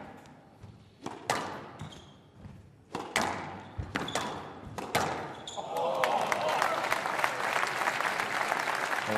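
At a professional squash match in the Canary Wharf Classic, sharp ball strikes and thuds off the court walls give way to a crowd breaking into sustained, loud applause at the rally's end.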